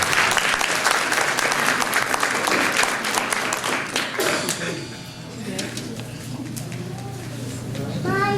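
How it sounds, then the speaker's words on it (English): A school audience at the Cole Manor winter concert gives a choir loud, dense applause that fills the first half and then thins out to scattered claps and a quieter room. "let's give this choir one last round of applause"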